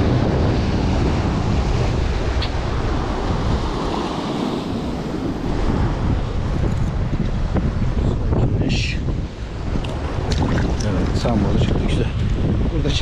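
Sea waves roll and break at Sinop during a bluefish fishing trip, a loud continuous wash with heavy wind buffeting the microphone and a voice heard under it.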